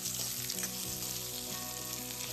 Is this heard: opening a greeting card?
no